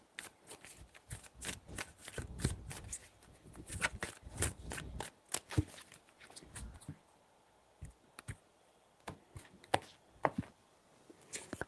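Tarot cards are shuffled and handled in a quiet, irregular series of soft slaps and riffles, busier at first and then thinning into scattered taps.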